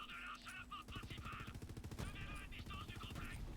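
Rapid automatic gunfire in a video game, each shot setting off small micro-explosions, rattles in a dense, continuous stream of loud bursts with a brief pause partway through.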